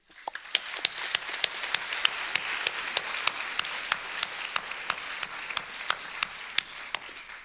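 An audience claps after a story is told at a storytelling talk: dense, steady applause with a few sharp individual claps popping out, sustained evenly for several seconds.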